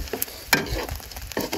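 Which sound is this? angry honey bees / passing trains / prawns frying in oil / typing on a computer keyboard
prawns frying in oil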